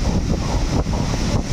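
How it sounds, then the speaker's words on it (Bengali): Strong storm wind buffeting the microphone, a loud continuous roaring rush with gusty swells, no voices. "এত জোর হাওয়া চলছে,"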